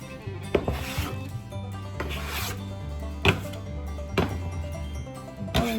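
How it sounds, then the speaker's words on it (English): A bench scraper works a very sticky sourdough in repeated scraping and rubbing strokes, with light taps and knocks at irregular intervals over a steady low hum, close and moderately quiet. "I'm going to use my bench scraper to try and wrangle it."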